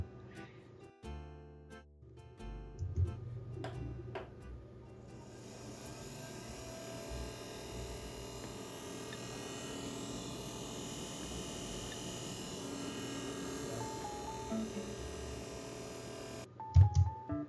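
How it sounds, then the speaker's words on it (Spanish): The CPU fan of an MSI MAG Infinite S3 desktop PC spins up at startup after some clicks, settling into a loud steady whirring drone that holds for about ten seconds before abruptly cutting off. "Ahora os voy a poner un vídeo de cómo sonaba al arrancar el ordenador, el ventilador de CPU."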